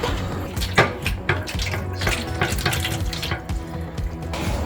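Cold tap water running onto a pot of rice porridge for baby food, a close, continuous splashing gush with irregular spatters and a few clinks of the pot.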